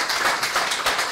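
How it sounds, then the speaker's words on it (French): An audience at a technical conference session claps briefly, a short burst of steady applause with no speech over it. "On peut les applaudir."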